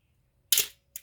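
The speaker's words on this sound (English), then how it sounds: "here's the final working speed of 1/30th. So you can clearly see the shutter" Shutter of an Olympus OM-1 film camera with a fault, firing at 1/30 second in a quiet room: one sharp close mechanical snap followed by a smaller click.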